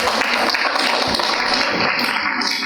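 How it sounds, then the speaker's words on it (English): An audience applauds for itself at a stress management talk for young people in a hospital setting, a dense, steady wash of many hands clapping that fills the whole moment without a break. "everybody clap for yourself"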